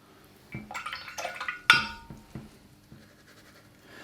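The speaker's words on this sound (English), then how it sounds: "Rinse it out a little bit." A watercolour brush is rinsed in a water jar, giving a few soft swishes and light clinks of the brush against the container, faint and close with no talking.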